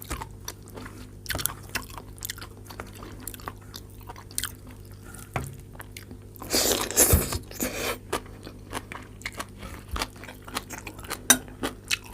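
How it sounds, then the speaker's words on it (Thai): Close crunching and chewing of crisp vegetables, irregular bites with a louder burst of crunching midway, plus faint clinks of cutlery. "ชอบกินผักกรอบๆอะเวลาเคี้ยวแล้วมันดังกรุบกรับ"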